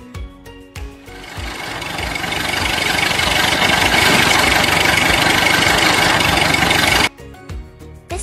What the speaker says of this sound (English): Tractors sounds like this.